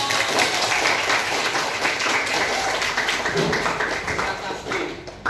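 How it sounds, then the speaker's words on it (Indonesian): Students in a classroom clap together, a moderately loud burst of applause that is dense at first and then thins toward the end, with a few voices mixed in. "Oke, beri aplaus untuk."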